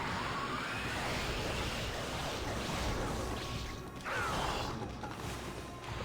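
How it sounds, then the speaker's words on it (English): A gust of wind technique in the video game Okami HD gives a broad, loud rushing whoosh that swells steadily over several seconds, with a second surge near the end and no talk over it. "Let's do one more gust of wind."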